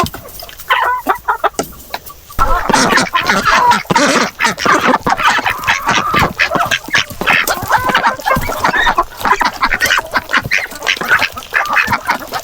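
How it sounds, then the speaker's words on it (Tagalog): Pekin ducks on a small farm quack loudly and constantly, a dense noisy chorus close by, with a brief quieter lull near the start before the flock erupts again. "Ang ingay nyo ah. Ito yung ating pikin duck"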